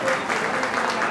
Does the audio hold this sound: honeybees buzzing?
no